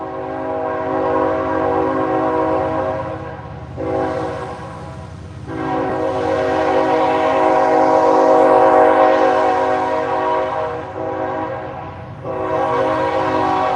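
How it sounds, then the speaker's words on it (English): A train passes close by, its loud, sustained horn blasting in several long pulses with short breaks, over a steady rumble of rolling cars. "There's another train."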